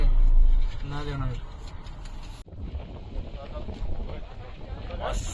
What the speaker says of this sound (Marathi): मस्त गार वारा सुटलाय.